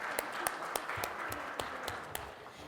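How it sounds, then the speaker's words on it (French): Audience at a maritime transport forum applauds the panelists after a debate: faint, distant claps with a few sharp, evenly spaced beats standing out above a soft wash of applause in a large room. "Un tonnerre d'applaudissements pour nos panélistes"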